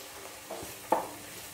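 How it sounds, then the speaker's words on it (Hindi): Bathua leaves roasting in a pan over a slow-medium flame give soft, faint sizzling with a couple of brief stirring scrapes. "अब ये भी बहुत अच्छे से भुन गया है बथुआ भी"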